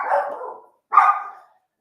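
A dog barks twice, two loud close single barks about a second apart with a brief silence between, no talking.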